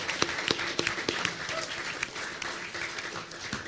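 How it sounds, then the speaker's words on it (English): A live podcast audience applauds a guest, fairly quiet, scattered clapping from a small room crowd with a few sharper individual claps standing out. "one more final round of applause for Mike"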